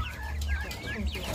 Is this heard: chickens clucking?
yes